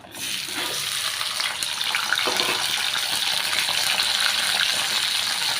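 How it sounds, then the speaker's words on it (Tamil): Onion, garlic, chilies, curry leaves and tomato sautéing in a pan for tomato chutney, producing a steady close sizzle with faint stirring, heard alone with no talking. "இது எல்லாமே சேர்த்து நல்லா வதக்கிக்கிடலாம்"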